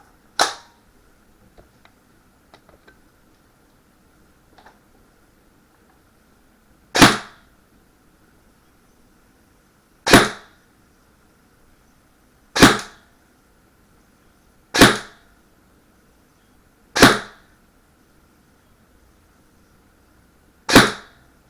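Custom budget-build airsoft gun with a gate MOSFET firing single shots over a chronograph, seven sharp loud cracks spaced a couple of seconds apart, the first alone and six more in a steady run, with quiet handling noises between.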